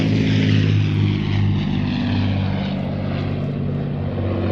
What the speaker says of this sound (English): Listen to the sound of those beautiful Merlin engines.